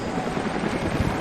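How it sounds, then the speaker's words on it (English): Helicopters approaching in Rise of the Tomb Raider, heard as a dense, loud low rumble of rotors with a rapid choppy pulse, close and continuous. "helicopters are headed your way."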